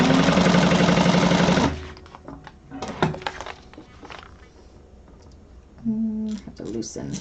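An industrial sewing machine stitches loudly and steadily in a dense run for nearly two seconds, then stops; afterward come handling clicks, thread adjustments and a brief second burst of stitching, with a person talking quietly.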